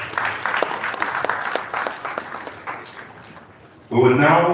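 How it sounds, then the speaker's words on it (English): Applause from the audience at the 1st Nigeria Reputation Summit, a scattered, moderately distant clapping that thins out over several seconds before a louder burst of sound cuts in at the end. "Please give him another round of applause."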